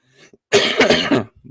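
A single sharp cough, close and loud, with a faint breath before it.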